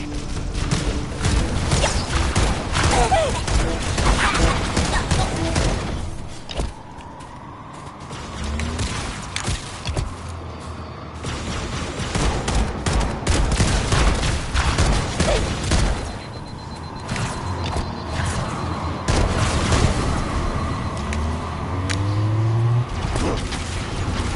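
Sustained Covenant gunfire and battlefield noise in Halo 2, dense rapid bursts, booms and mechanical clatter, loud and continuous with only brief lulls.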